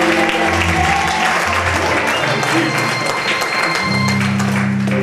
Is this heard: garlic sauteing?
no